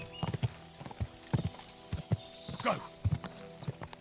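Horse hooves clop in a steady galloping rhythm on the ground in Kingdom Come: Deliverance 2, fairly faint, with a brief snort and a short spoken word.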